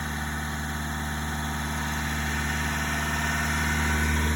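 A truck engine idles in a steady, even rumble with a faint vibrating hum, close and moderately loud, and no one speaking.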